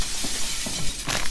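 Glass shattering in the horror game Hospital 666 as a monster smashes through it, heard as a few sharp crashes in quick succession over a steady noisy background, the loudest burst near the end.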